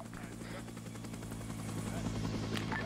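Helicopter in the Arma 3 military game, its steady rotor drone and engine hum running continuously and fairly loud, with faint battle noise in the background.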